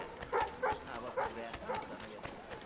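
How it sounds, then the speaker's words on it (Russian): A dog barks repeatedly in Assassin's Creed 3, several sharp woofs in an uneven rhythm over game background noise, with a voice talking underneath. "Собакин, собакин."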